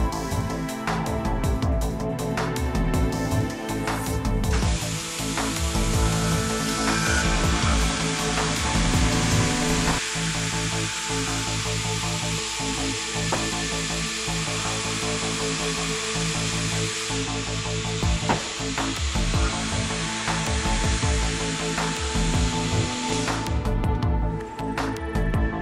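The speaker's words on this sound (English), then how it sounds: "Here we are boring a 16-inch panel with 4 lines of holes in the bore-through mode." A GANNOMAT Vantage CNC line drilling machine bores four lines of holes through a 16-inch panel, with a steady, loud mechanical whir and hiss, repeated clunks of clamping and drill strokes throughout, and no talk.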